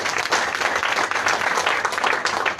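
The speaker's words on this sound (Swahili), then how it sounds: "Tupigie makofi." An audience at a talk applauds, a dense burst of many hands clapping at once, fairly loud and sustained throughout.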